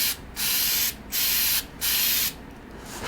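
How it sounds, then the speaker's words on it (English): An aerosol can of undercoating sprays onto a cardboard box in three steady hissing bursts, each about half a second long, close and clear, with quiet pauses between them. "I always spray it on a box first, whether or not to see if the nozzle's actually working"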